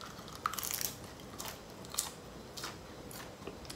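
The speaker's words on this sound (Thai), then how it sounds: "ก็อร่อยดีเวลาที่เรากินรวมกับอย่างอื่นเนี่ยมันจะกรอบมากเลย" Crisp crunching bites and chewing of a crunchy vegetable eaten with green papaya salad, several separate crunches close to the microphone in a quiet setting.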